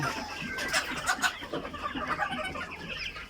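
Egyptian Fayoumi chickens cluck in a steady, busy chorus, several birds close by with overlapping short calls and no talking.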